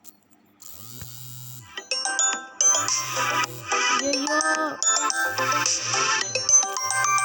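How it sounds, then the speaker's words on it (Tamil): A phone ringtone chimes in repeated melodic bursts over a steady background hum, with a brief exclaimed voice near the start during a gameplay session. "இருங்க, ஃபோன் வருது."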